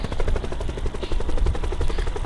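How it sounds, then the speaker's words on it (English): Helicopter in the Black Ops 4 Blackout battle royale game, a loud close rotor thrum with steady rapid chopping pulses and engine whine, continuous for a couple of seconds with no talk. "Helicopter spawns here,"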